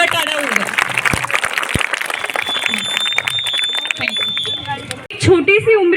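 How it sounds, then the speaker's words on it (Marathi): Students clap loudly at a school mathematics day celebration, a dense, steady burst of applause lasting several seconds that ends abruptly, with voices mixed in and a brief louder sound near the end. "यांच्यासाठी परत एकदा जोरदार टाळ्या होऊ द्या"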